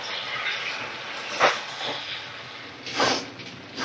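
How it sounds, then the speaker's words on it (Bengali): Chicken pieces are stirred and fried in hot oil in a kadai, giving a constant hissing sizzle with two louder scraping strokes of the spoon, close and with no voices. "তেলে এই মাংসটাকে নাড়াচাড়া করতে হবে।"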